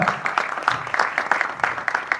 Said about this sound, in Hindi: तालियां एक बार